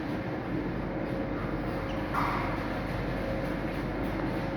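A train station in Marseille gives a steady, fairly quiet low rumble of trains with a faint high hiss. There are no clear horns or announcements.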